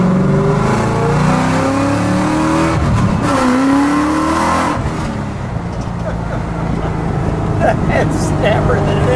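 A black 1948 Ford Woodie wagon custom restomod drives steadily close by, its engine droning and revving continuously while people talk over it throughout.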